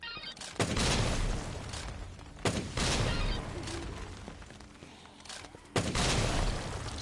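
Rocket launcher shots in Dead Rising Deluxe Remaster, three sharp booming blasts spaced a few seconds apart, each followed by a sustained rumbling roar amid dense game noise.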